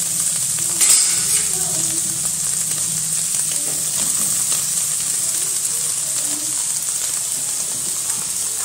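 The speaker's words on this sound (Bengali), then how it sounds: "চাউটা দিয়ে আর একটু ভালো করে ভেজে নেব, একটু নেড়ে চেড়ে ভেজে নিলেই হয়ে যাবে" Chow mein noodles tossed with egg and potato fry and sizzle steadily in a pan, with occasional scrapes and clatters of stirring throughout, close and continuous without talk.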